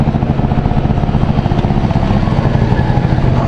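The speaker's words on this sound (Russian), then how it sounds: "мы сейчас едем на скутере" A Honda Dio 27 scooter engine drones loud and steady while riding, a continuous buzzing putter with wind rumble and no speech over it.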